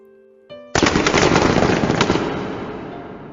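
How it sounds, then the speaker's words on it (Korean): Sudden burst of rapid machine-gun fire erupts after a brief musical tone, a loud dense rattle of shots that continues and slowly fades, with no talking. "요란한 총소리가 울려 퍼지고 불빛이 번쩍번쩍했다."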